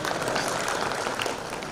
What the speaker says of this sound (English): let's keep cheering and let's all cheer together